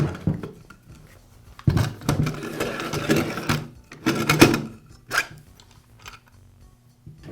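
Porter Cable router base being taken off the motor by hand, a few close clicks, scrapes and rattling handling noises in separate bursts on a quiet bench.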